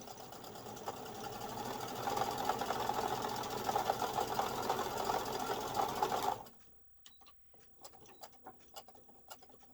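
A sewing machine stitching a fabric pouch runs in a fast, steady close whir for about six seconds, then stops, leaving faint clicks and handling sounds.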